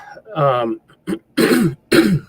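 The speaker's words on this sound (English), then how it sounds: "sorry, I got a little bit of a cough there" A voice hums briefly, then a throat clear and two sharp coughs follow in quick succession, close and loud.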